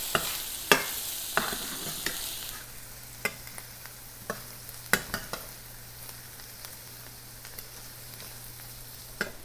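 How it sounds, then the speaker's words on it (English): Onions sweating over low heat with chanterelle mushrooms, a soft, steady sizzle broken by scattered sharp clicks and taps of stirring, fairly quiet and heard alone. "So you don't want these onions to get brown. You just want them to sweat."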